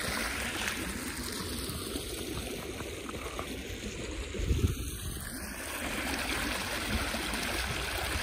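Water gushes steadily from a running irrigation pump motor into a field channel in rural Punjab, a continuous close rushing flow with a brief louder splash midway.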